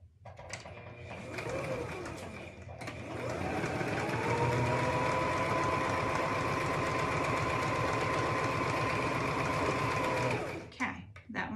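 Sewing machine runs a steady seam at 5/8 inch on a child's hat, a continuous whirring motor with rapid stitching rhythm lasting several seconds, preceded by brief handling noises and stopping near the end.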